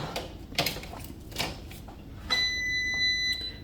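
A Cosori TwinFry air fryer gives a single clean electronic beep when plugged in, a steady high tone lasting about a second amid quiet handling noises on a kitchen counter.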